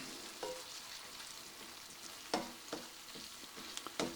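Ground beef browning with garlic in a pan gives a steady, soft sizzle, punctuated by a few sharp scrapes and clicks of stirring toward the end.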